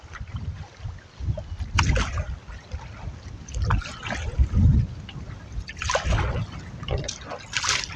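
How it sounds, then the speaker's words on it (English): Wind and small waves lap against a canoe on open water during a solo canoe camping trip, with gusty low rumble and intermittent splashes and trickles rising and falling throughout. "We got some waves. We got some wind."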